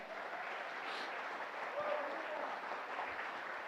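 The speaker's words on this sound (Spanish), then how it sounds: "Vamos a aplaudir al Señor" A church congregation applauds the Lord during a sermon, steady, fairly quiet clapping from many people that fills the whole stretch without pause.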